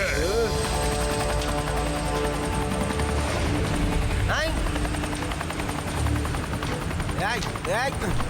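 A cartoon helicopter whirs steadily and loudly throughout, its rotor drone running under overlapping cartoon sound effects as it takes off.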